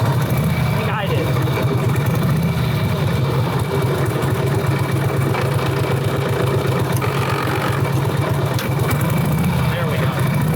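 An 80-year-old motorcycle that sat for decades, with a rebuilt clutch, runs at a steady, even idle with a low, pulsing rumble while people talk nearby.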